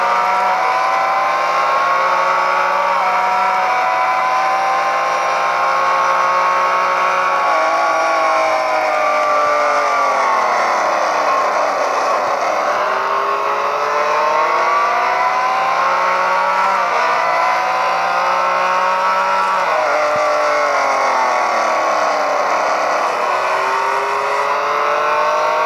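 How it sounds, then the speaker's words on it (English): A Ford race car engine in the Real Racing 3 game at Le Mans drones loudly and continuously, revving up and down through repeated gear changes, with rival cars close behind. "Nice, cool engine."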